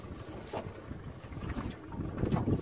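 A small fishing boat's outboard motor revs under throttle on the water, a steady low engine drone rising slightly in loudness near the end, with water wash around it and no talking.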